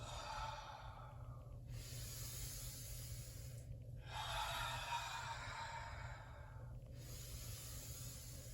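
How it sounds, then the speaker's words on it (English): Strong breaths during qigong practice, a long exhale and inhale repeated in a slow cycle of about three, close and soft with no talking. "Keeping that nice strong exhale, nice full inhale."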